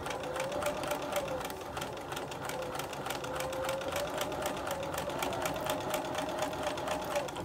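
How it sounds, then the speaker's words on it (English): Sewing machine stitching a strip set to quilt backing fabric with a half-inch seam, running as a steady, continuous rapid whir with fine regular needle clatter throughout, close and alone. "stitch with a 1/2 inch seam allowance"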